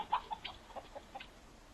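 Battery hens in poor, crowded conditions cluck faintly, a handful of short, soft calls scattered quickly in a row over quiet background.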